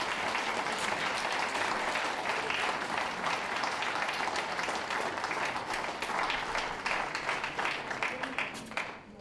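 Sustained audience applause in a dog show arena, broad even clapping that carries on at a steady level and cuts off abruptly at the end.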